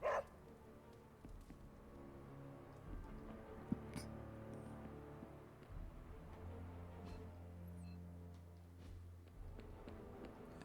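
A dog in the video game Marvel's Midnight Suns, heard as a few soft barks and whimpers that stand out over quiet game ambience and music, with no talking.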